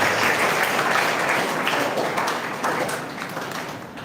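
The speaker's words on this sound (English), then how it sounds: "Give him a big round of applause and welcome our honorable chief guest." A campus audience at Little Flower Harraiya gives a big round of applause welcoming the chief guest, a Tahsildar, a dense crowd of clapping that is loud at first and gradually fades toward the end.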